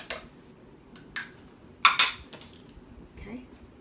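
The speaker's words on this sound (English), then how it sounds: "I am going to mix it very well because this is going to be my egg wash" A whisk or fork clinks against a bowl while egg and water are mixed into an egg wash for stuffed crust pizza, a few scattered sharp taps and scrapes that are close and fairly quiet, with faint background sound between them.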